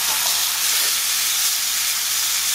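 Skirt steak for carne asada sizzles steadily in a pan, a close, continuous bright hiss of frying with no break and no voices.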